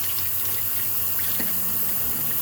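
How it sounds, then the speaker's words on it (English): A running kitchen tap hisses steadily as a dish is rinsed under the stream, a constant close wash of water with faint clinks, no talking. "when I need to rinse it, I turn it back on, hold it with my right hand, rinse it off"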